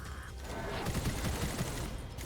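Rapid bursts of gunfire in the video game Gunfire Reborn crackle in quick succession over a dense, noisy background.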